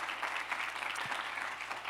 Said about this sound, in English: wild applause.